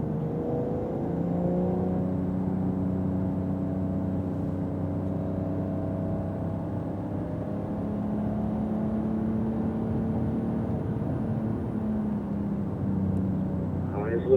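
A Porsche Carrera GTS race car drives a wet track, its engine holding a loud, steady droning note that rises slightly as it accelerates, with a voice talking over it throughout.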